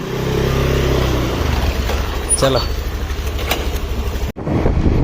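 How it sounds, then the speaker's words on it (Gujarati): A Honda Activa motor scooter engine hums steadily while riding, with road and wind noise throughout and a brief voice speaking partway through. "એક્ટિવા ઉપર જઈએ છીએ"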